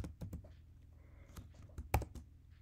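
Computer keyboard typing in short, light clicks, a few separate keystroke bursts over a quiet room background, close and fairly soft, with no voices.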